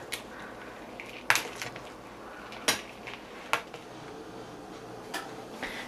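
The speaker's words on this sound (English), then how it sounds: "So I mixed everything really well." Pizza dough being mixed with two cheeses and pepperoni in a bowl, a soft quiet churning broken by several sharp utensil clinks against the bowl, no speech.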